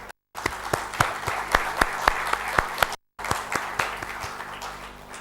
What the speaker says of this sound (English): request you to welcome them with a big applause